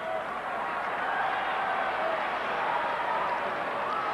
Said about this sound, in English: Well, you hear the fans booing